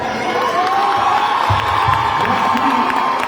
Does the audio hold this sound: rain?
no